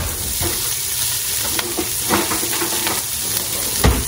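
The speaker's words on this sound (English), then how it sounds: "I'm going to stir those beautiful onions around and take up all of the delicious flavor." Onions sizzling in a pan with meat juices while being stirred, a loud close hiss punctuated by occasional scrapes and knocks of the spoon, no voices.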